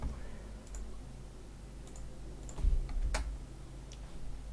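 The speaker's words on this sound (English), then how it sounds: "Sorry if my keyboard's super fucking loud. Mechanical keyboards a pain in the ass." Typing on a loud mechanical keyboard: scattered sharp clicks and clacks at an uneven pace, close and fairly faint, with one brief louder thump midway.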